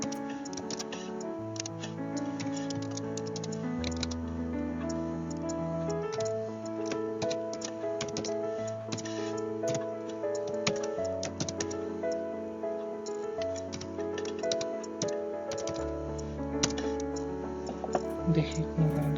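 Computer keyboard typing while writing C linked-list code: rapid, irregular clicking keystrokes running steadily throughout, close and light, mixed with soft background music and occasional talking.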